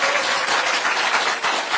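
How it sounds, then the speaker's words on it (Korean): An audience at a party members' forum gives a round of applause, dense, loud and sustained clapping from many hands for nearly two seconds, with no talk over it. "뜨거운 응원의 박수 한번 다시"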